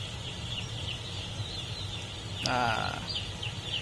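A broiler chicken farm fills the air with a steady low hum and a faint, constant chorus of birds, broken by one brief, louder bird call near the end.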